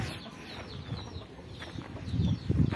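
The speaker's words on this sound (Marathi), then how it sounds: "आमच्या कोंबड्यांचा खुरवडा." Chickens cluck softly in a village coop, a few scattered calls that grow a little louder toward the end.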